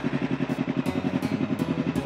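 A Kawasaki Ninja motorcycle engine idling close by, a steady loud pulsing throb with rhythmic firing beats and a faint metallic clatter throughout, no talk.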